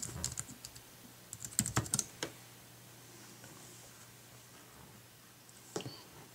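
Quick bursts of key clicks come from an iPad keyboard dock being typed on to control an iPod Touch 4G, with a flurry of close taps early, then quiet, and a final short cluster.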